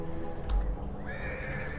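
A horse whinnies close and loud in a Total War Attila battle, a rising neigh over a low rumbling game backdrop with a few soft hoof clops.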